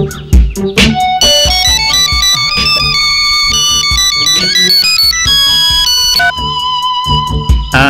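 A phone ringtone in a Telugu TV serial scene plays as a loud, steady melodic electronic tune with bright repeating tones, layered with background score throughout.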